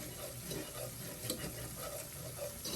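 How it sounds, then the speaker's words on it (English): Butter cooking over medium heat in a pan as the base for béchamel sauce, a soft continuous sizzle with gentle stirring sounds, close and fairly quiet. "right now I'm just trying to cook some of that rawness off of the butter"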